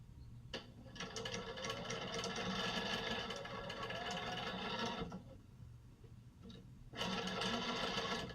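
A sewing machine stitching quilt fabric for a sawtooth star block, steady fast mechanical whirring in runs that pause briefly and restart, close and fairly quiet.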